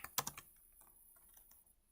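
Keys on a computer keyboard clatter in a quick burst of typing at the start, then thin out into a few light, scattered taps, close and fairly quiet.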